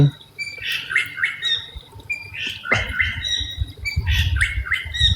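Oriental magpie-robin calls repeatedly in a home garden, its bright whistled phrases and squawky notes coming in clusters at moderate distance over a low rustling background.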